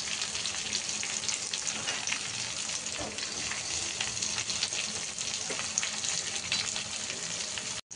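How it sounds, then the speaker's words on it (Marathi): Chopped onion fries in hot oil for a Marathi cauliflower and potato bhaji, giving a loud, continuous close sizzle with faint stirring. "आता कांदा आपण सोडत आहे, हे बघा फ्राय करायला।"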